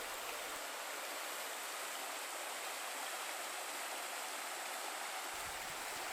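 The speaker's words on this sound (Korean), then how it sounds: "부천동 계곡의 계곡물이 다시 제법 흐르는 모습이 보이기 시작합니다" Mountain valley stream at Gucheondong Valley on Deogyusan, water flowing steadily over rocks in a continuous broadband rush, close and even throughout with no voices.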